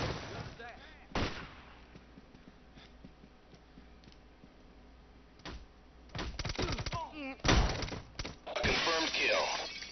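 A flashbang detonates in a tactical military shooter game after a door is unlocked: a sharp burst at about 5.5 s, then a loud ringing blast with crackling debris from about 7.5 s to the end, following quiet ambience and a few clicks.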